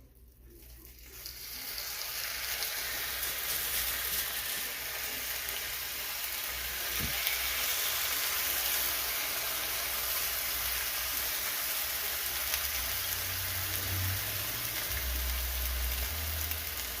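A ribeye steak sears in a hot pan over medium-high heat, giving a steady, loud, continuous sizzle with crackling spatter throughout and no voices.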